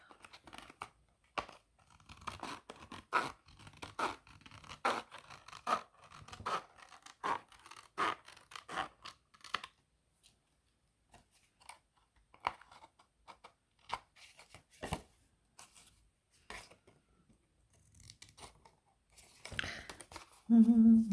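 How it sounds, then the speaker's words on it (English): Scissors snip through a paper template in a crafting session, with irregular crisp cuts and rustles of paper close by, pausing between bursts. "sticking my scissors underneath the largest piece of the template and going on to the inside, it makes it easier for me to cut."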